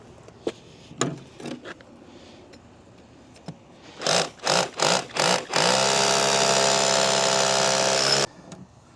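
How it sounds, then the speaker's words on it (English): A power drill bores an anchor hole for a swimming pool cover in four short bursts, then runs steadily for about three seconds; a few tapping knocks come before it. "So I'm going to drill the next anchor right here."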